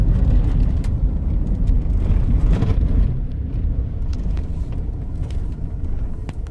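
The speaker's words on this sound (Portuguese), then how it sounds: "Olha a arrancada que tá o carro." A Mitsubishi Pajero with a fault affecting its pull-away accelerates from a start, a loud, dense low engine rumble heard from inside the cabin that stays steady and eases slightly after a few seconds.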